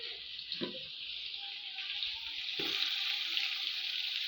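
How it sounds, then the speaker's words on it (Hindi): Spices for chana pulao, including salt, whole chillies, biryani masala and coriander powder, roast in a pan with a soft continuous sizzle, a couple of brief stirring knocks early on, and the hiss growing slightly fuller toward the end. "और मसाले की अच्छी तरीके से भुनाई कर लेंगे।"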